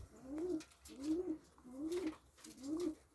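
Pigeons coo in four even, repeating low calls, close by, with soft rustling in the background.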